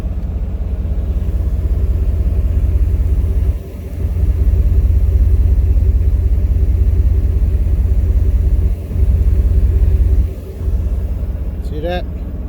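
A car engine runs steadily with a low continuous rumble, close and loud, broken by a few brief dips, with a short squeak near the end.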